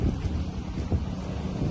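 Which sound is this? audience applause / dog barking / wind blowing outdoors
wind blowing outdoors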